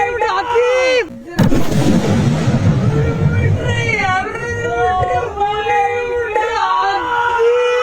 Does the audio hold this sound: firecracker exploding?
yes